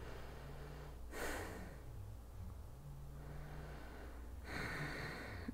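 Soft breaths during a yoga session, with two brief, breathy exhales rising over a faint, steady room hum, the first about a second in and the second near the end.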